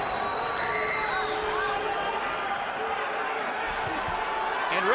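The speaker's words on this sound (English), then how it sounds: "And you hear the adoration of the crowd" A boxing crowd at the Manny Pacquiao vs David Diaz fight roars and cheers in a steady, dense wash of arena noise that swells slightly toward the end.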